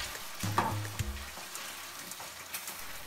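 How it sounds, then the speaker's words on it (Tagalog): Zucchini pasta with tuna stirred in a pan, a soft continuous sizzle with a few quiet scrapes and clicks near the start. "Haluin ito."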